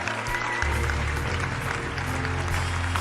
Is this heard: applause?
yes